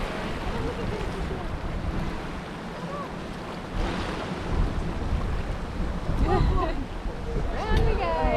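Turbulent tidal water churns and breaks at Cygnet Bay, a steady loud rush of waves and surf with wind buffeting the microphone, and people talk over it at times.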